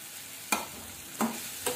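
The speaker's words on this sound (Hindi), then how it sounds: "इसको अच्छे से आप भून लेंगे, ये टमाटर सॉफ्ट हो जाए तब तक हम इसे भून देंगे।" Tomatoes sauté in a pan for a children's breakfast dish, a soft low sizzle broken by three short scraping stirs of a spoon against the pan, close and alone.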